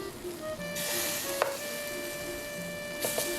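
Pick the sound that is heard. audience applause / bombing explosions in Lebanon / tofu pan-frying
tofu pan-frying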